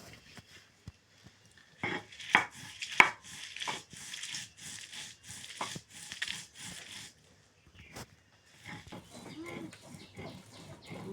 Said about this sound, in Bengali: সরিষার সাথে ভালোভাবে বেটে ফিনিশ করে নিয়েছি